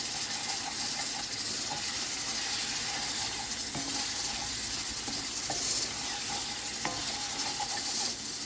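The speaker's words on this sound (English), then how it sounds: "I'm going to take this top off here and stir our mushrooms and onions" Mushrooms and onions sizzle steadily in a pan for a beef stroganoff, with occasional spoon scrapes and clinks from stirring cutting through the constant close frying hiss.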